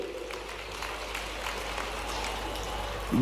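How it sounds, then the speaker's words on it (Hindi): A political rally crowd applauds for the Prime Minister at a government event in Madhya Pradesh, giving a continuous, somewhat distant wash of clapping that swells slightly near the end. "एक बार जोरदार तालियां बजा नरेंद्र मोदी जी के लिए।"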